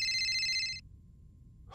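An electronic phone ringtone trills loudly for under a second, then cuts off into near silence before a faint sound begins at the very end.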